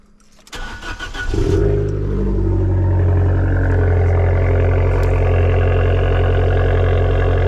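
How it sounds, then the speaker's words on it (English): A car engine cranks briefly, then catches and fires up into a loud, steady high idle that keeps droning. "let's cold start this bad boy."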